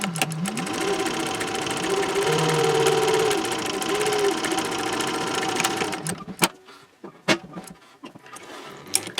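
Domestic sewing machine top stitching a bag seam at a long stitch length, running steadily and loud for about six seconds before stopping, followed by a few handling clicks and rustles.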